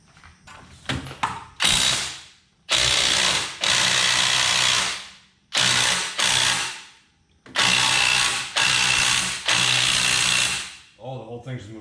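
Several loud bursts of a power tool, likely an impact wrench, work a control arm bolt on a Foxbody Mustang, each burst a few seconds long with short pauses, and people talk between them.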